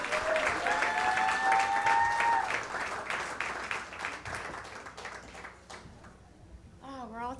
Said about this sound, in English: keep that round of applause going for the very funny Amber Nicole with an H